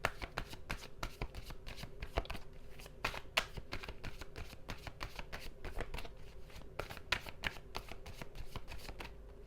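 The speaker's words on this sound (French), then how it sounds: "je vais juste tirer quelques cartes" Tarot cards are shuffled and drawn in a quick run of soft, close riffling flicks and slaps that repeat steadily throughout, with no talking.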